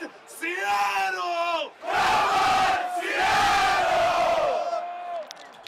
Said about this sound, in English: You gotta love it when the whole crowd participate as well too.